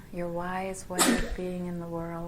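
A single sharp sneeze bursts out during a calm spoken guided meditation, brief and close, between steady sustained tones with the soft speaking voice continuing around it.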